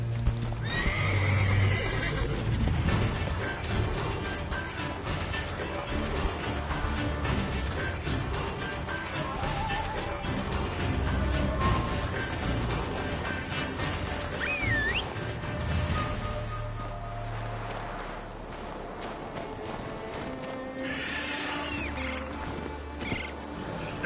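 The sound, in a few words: Geralt's horse Roach neighing and hooves, from video game The Witcher 3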